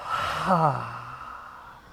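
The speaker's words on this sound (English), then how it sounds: "Breathe in the nose and out the mouth like you're fogging up a mirror" A single slow breath drawn in through the nose and pushed out through the mouth with a soft, airy fogging-a-mirror sigh during an Ashtanga yoga breathing exercise, close and fairly clear.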